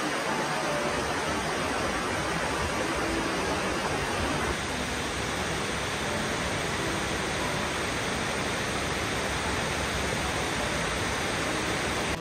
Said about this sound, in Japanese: ホテルの隣は激流が流れる川、